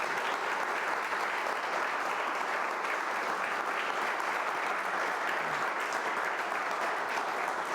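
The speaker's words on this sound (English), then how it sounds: "Could we please have a round of applause for Stanley?" An audience at a talk event applauding in a dense, steady burst of clapping that holds at an even, fairly loud level for several seconds without pause or voices on top.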